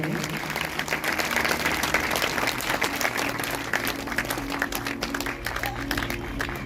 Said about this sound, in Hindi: जोर से तालियां बजाएंगे।